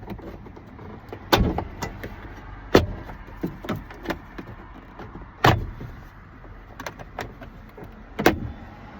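Plastic trim clips popping loose from the rear door panel of a Ford F350 extended cab, several sharp snaps spaced a few seconds apart over soft handling clatter, close by with no talk.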